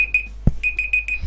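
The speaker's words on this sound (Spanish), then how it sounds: "me está sonando la alarma, ¿en serio?" An alarm rings in short repeated electronic beeps, a steady high-pitched tone pulsing several times with a brief low thump in the middle, fairly clear and alone without talk.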